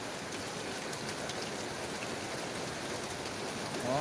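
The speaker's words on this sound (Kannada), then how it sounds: "ಮಳೆ ಮಾತ್ರ ಬಿಡ್ರಿ ಇವತ್ತು" Heavy rain pours steadily in Tumakuru, a dense, continuous hiss of drops on surfaces, loud and close throughout with no voices.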